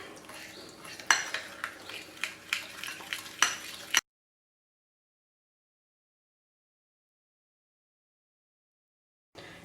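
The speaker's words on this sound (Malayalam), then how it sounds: "ഇതൊന്ന് നല്ലതുപോലെ ഇനി മിക്സ് ചെയ്യുക." Eggless fruit cake batter is mixed with a spoon in a bowl, making a quick run of close clinks and scrapes for a few seconds before sudden silence.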